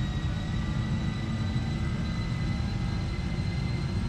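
A steady, low roar of Boeing 747F freighter engines at takeoff power in the FSX flight simulator, an even broadband rumble with a faint high whine held throughout.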